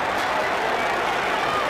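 Basketball arena crowd at a 1992 Indiana Hoosiers at Cincinnati Bearcats college game roaring in reaction to a blocked shot, a steady dense wall of cheering sustained for the whole stretch.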